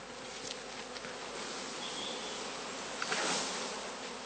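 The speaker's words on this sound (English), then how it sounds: "He fills each skep with about 2 wooden platters full of cast bees" Dense, steady buzz of a cast swarm of honey bees being poured by the platterful into heather skeps, a continuous droning hum with a brief louder surge near the end, no voices.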